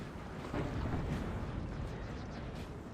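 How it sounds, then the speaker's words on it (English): French artillery in Napoleon Total War firing during a 4v4 battle, a continuous low rumbling roar of distant cannon blasts blending into one another, fairly faint. "the French brought so much artillery"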